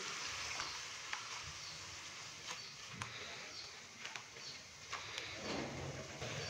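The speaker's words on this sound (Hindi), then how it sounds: "अच्छे से मिक्स करेंगे और मसाले को 5 से 7 मिनट के लिए अच्छी तरह से हम भून लेंगे।" Spice masala with salt and a little water fries in a pan, giving a soft, continuous hissing sizzle with occasional faint clicks and scrapes, quiet and close.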